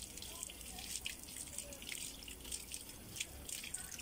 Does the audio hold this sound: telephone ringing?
no